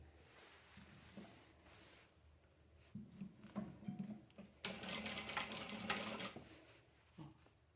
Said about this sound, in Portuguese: E vai vir costurando, passando por cima também, vai dar a volta toda até acabar do outro lado.